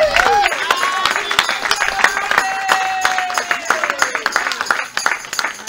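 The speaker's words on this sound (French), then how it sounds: "Accueillons-les avec nos acclamations" A church congregation at a servant ordination service in Rennes breaks into sustained applause and cheering, dense clapping filling the hall with voices calling out over it and a sung or shouted tone rising through the middle.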